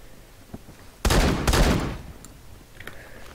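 DBV-12 shotgun blasts from the Phantom Forces video game, two loud booming shots in quick succession about a half-second apart, with a brief echoing tail and quiet background afterward.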